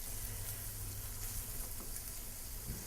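Onions caramelizing in a pan sizzle steadily, a dense continuous frying hiss heard close up and alone, without talk.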